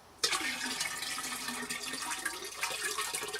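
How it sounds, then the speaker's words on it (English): Kombucha pouring into a jar during home brewing, a steady continuous splash and trickle of liquid that starts abruptly and runs on at even strength, close and fairly loud with no talking. "pour the kombucha that you had poured over the SCOBY, pour that into the jar"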